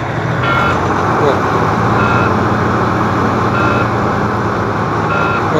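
A Detroit 12.7 diesel engine in a truck revs steadily under cruise control, a loud continuous drone with short high tones sounding now and then over it.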